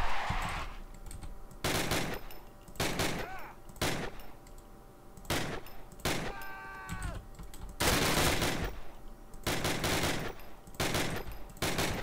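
Weapon fire in the Call of Duty video game, a string of sharp, loud gunshot bursts spaced irregularly across the stretch, with quieter battle noise and faint voices between.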